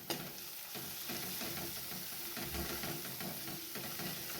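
Drumstick pods fry with black masala paste, onion and garlic over medium heat, a steady soft sizzle under scraping stirs that sounds close but quiet.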